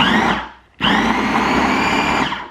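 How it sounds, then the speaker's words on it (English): An electric food chopper blitzes ingredients in two loud, whirring bursts, a short pause between them, with no talking. "all I'm going to do is just blitz that together"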